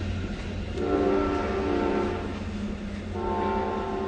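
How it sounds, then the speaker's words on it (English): A train horn blares in long sustained chords over a steady rumble of passing rail cars, sounding twice with a brief dip between blasts. "the train's getting loud too."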